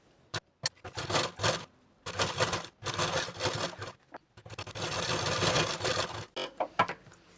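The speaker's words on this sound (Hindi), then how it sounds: "अब दोबारा फोल्ड करने के बाद ना यहाँ पर हमें पक्की सिलाई लगा लेनी है" A sewing machine runs close by in several bursts, a rapid mechanical whir of firm stitching along a double line on a blouse button placket, with brief pauses and clicks between runs.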